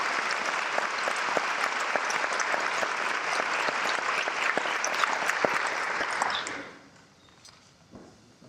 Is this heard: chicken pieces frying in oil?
no